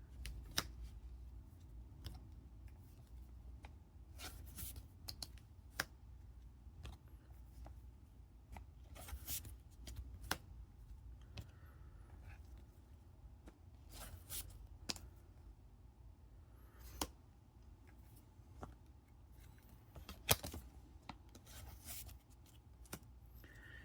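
Magic: The Gathering cards for an Aragorn commander deck being slid into sleeves, a steady stream of soft close papery rustles, flicks and light shuffling with sharper clicks scattered throughout, quiet and intimate with no talking.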